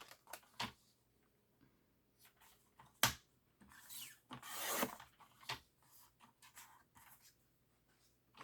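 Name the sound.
cutting off card paper for card making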